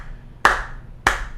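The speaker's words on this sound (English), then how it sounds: "just a round of applause." Two sharp hand claps about half a second apart, loud and close, each with a quick decay and no voices.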